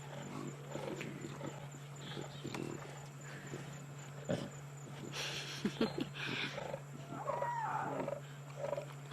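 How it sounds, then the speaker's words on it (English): Lions roar and snarl on a safari drive, rough growls and bursts heard at moderate distance amid outdoor noise and a steady vehicle hum, with intermittent talk. "Lions are a lot of sound and fury"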